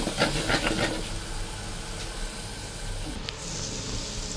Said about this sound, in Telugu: మనం రుబ్బి పెట్టుకున్న కారం అయితే వేయించుకోవాలండి